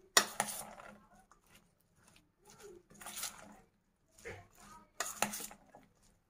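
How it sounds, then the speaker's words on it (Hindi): A spoon stirs Sindhi chana chaat with tamarind sauce and green chili sauce, giving intermittent clinks and scrapes against a bowl in short bursts with quiet gaps between, close by. "उसके बाद हम इसको अच्छे से मिक्स करेंगे"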